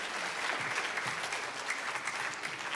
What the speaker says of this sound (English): Round of applause for Mickey.